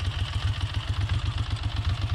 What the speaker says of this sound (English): I love the fact that you can hear what's happening in the engine. Those tappets just tapping away happily.